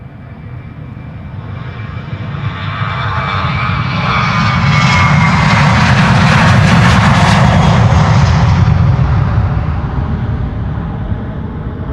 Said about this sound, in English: next up, KLM flight 1251, outbound Helsinki. 737-800